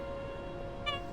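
A house cat meows to be let in, one short, clear call near the end that rises over a steady humming tone.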